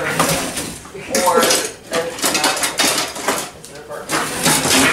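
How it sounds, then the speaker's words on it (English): Tongs toss kale salad with dressing in a bowl, making repeated clattering, rustling scrapes in uneven bursts, loud and close, with a voice talking over it. "we're going to give it a good toss"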